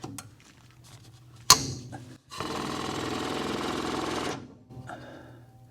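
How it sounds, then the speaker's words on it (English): An air compressor hooked up to lift a Mustang GT starts after a sharp clank and runs with a loud, buzzing, rapid mechanical chatter for about two seconds before stopping, with quieter clattering before and after. "We'll hook up our compressor just like that, and we'll start getting her up in the air"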